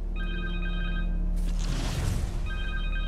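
A cell phone rings in Marvel's Spider-Man 2, a repeating electronic ringtone pattern heard twice with a noisy burst in between, over a low steady hum.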